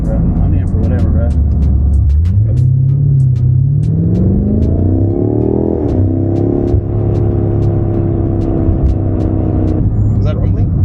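A 600 hp BMW M car's engine rumbles loud and close from inside the cabin, the drone rising smoothly in pitch as it accelerates, then holding steady, with voices talking over it.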